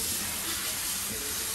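Water spray rinses the coat of a blue merle dog during grooming, a steady broad hiss of running water throughout with a voice talking faintly beneath it.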